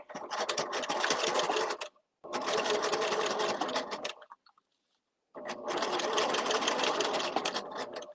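A sewing machine stitches in the ditch along a seam between lining and main fabric on a thread catcher. It runs in three steady whirring bursts of about two seconds each, with short pauses between them, close and clear.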